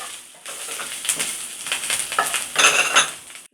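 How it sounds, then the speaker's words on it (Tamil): Chopped banana stem tossed into a hot pan with curry leaves for Tamil vazhaithandu poriyal, giving a close, steady sizzle with bursts of scraping and stirring that swell toward the end before cutting off. "கூட நான் வாழைத்தண்டு போடுறேன்"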